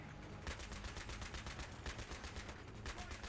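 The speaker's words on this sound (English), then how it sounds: "Try to get some suppressing fire on these guys." Gunfire in Battlefield 3's Thunder Run campaign mission, a rapid series of rhythmic automatic bursts, fairly faint and distant-sounding, continuing evenly through the clip with no talk.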